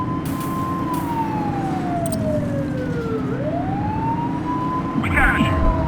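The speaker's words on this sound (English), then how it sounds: "Remember to turn your siren on." Police car siren from the video game The Precinct, wailing up and down over a steady engine and road roar, loud and close, with a brief extra burst near the end.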